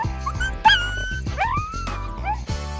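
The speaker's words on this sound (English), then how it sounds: "there is something especially sweet about the song of this pariah dog from New Guinea" A New Guinea singing dog's howls slide up and down in pitch, wavering and melodic, repeated in short sung phrases close by.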